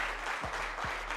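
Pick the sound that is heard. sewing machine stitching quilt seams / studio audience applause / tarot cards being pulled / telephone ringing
studio audience applause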